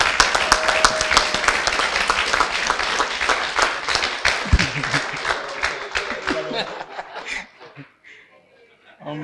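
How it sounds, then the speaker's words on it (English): A business bootcamp audience in Lagos breaks into loud, crowded clapping mixed with some laughter. The applause thins and fades out toward the end, leaving a quieter room. "Please, ladies and gentlemen, give a round of applause to Benga Abodun."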